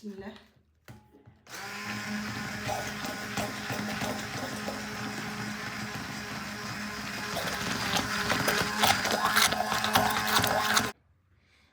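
A kitchen blender grinds rice together with whole egg, a loud continuous whirring drone that starts abruptly, rises in intensity near the end, then cuts off; a brief spoken phrase comes before it starts.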